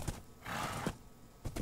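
A horse in a video game gives a short, faint whinny, set among soft hoof clops and quiet ambient game sounds.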